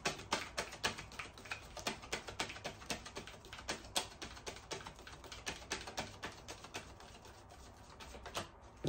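Rapid crisp clicks and taps of tarot cards being shuffled, a steady flurry of close, papery snaps with brief pauses, no voices.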